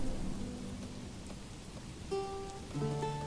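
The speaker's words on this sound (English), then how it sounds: "Look at this rainy weather, we got some thunder now as well" Steady rain falls in the video game Manor Lords, a soft, continuous patter with a low rumble underneath, joined later by tonal game music chimes.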